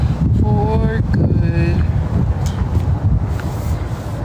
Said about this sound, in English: it got kind of windy, but it's okay. It's just windy now.